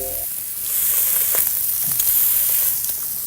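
Sausage patties frying on a breakfast griddle give a steady, close hiss and crackle with a few sharp pops throughout.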